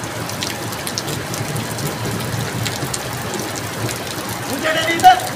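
Heavy rain falls steadily during an outdoor sit-in protest, making a dense, constant hiss of drops on surfaces, with people talking faintly beneath it.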